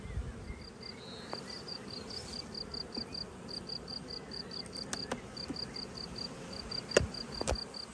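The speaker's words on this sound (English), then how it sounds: "You can see these are just ferocious bees." Bees at an open hive make a constant low buzzing hum, and a higher insect whine pulses regularly through it, with a few faint clicks near the end and no voices.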